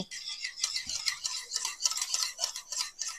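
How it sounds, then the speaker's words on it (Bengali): A spoon or whisk beats drained sour yogurt in a bowl, giving a steady, close series of rapid scraping and clinking strokes that runs the whole time with no pause and no talking. "আমি যে টক দইটা জল ঝরিয়ে রেখেছিলাম সেটা আমি ফেটিয়ে নেব"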